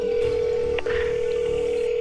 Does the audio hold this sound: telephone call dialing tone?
yes